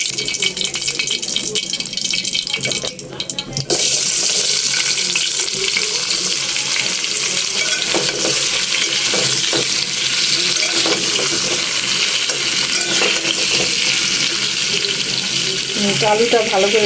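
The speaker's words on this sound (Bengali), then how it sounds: "আলুটা ভালো করে ভেজে নিব।" Potatoes fry in a hot pan for a home-cooked meal, giving a loud, steady sizzle with bursts of stirring and scraping that carry on without pause throughout.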